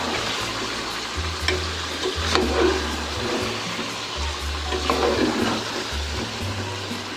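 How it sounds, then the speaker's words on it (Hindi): Biryani masala spices being stirred into a cooking pot give a continuous moderate sizzle with scraping stirring strokes, backed by a pulsing low hum and no talk. "मसालों को एक मरतबा मिक्स कर लूँगी"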